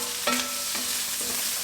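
Onion sautéing in a hot pan, a steady soft sizzle with a few scraping stirs of a utensil, close and without talk.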